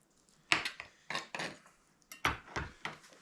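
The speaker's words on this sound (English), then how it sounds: "Then I just kind of chop the meat up." Grilled lobster meat is chopped with a knife on a board, giving about eight close, crisp knocks in an uneven rhythm with brief quiet gaps between strikes.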